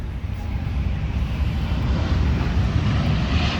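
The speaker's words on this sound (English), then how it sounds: "There's airplanes taking off over there too." Steady broadband aircraft engine roar from airplanes taking off at an airport near a Boeing 747-400, a continuous loud rumble lasting throughout with no talk.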